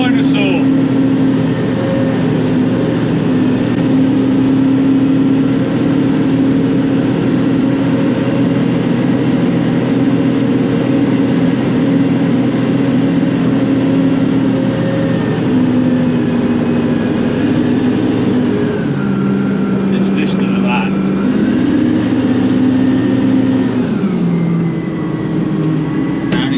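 A massive CAT 992D loading shovel's diesel engine drones loud and close inside the cab, holding a steady low roar; around the middle and late stretch the pitch drops and steps back up as it shifts gear. Someone talks over it.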